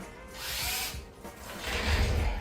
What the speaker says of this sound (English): Get her drilled out over here.